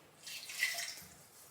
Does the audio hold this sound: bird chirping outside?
no